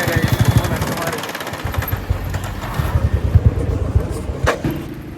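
Royal Enfield Bullet motorcycle engine knocking unevenly after stalling, a rough, rhythmic low thudding that falters and picks up again, close by, with voices talking over it.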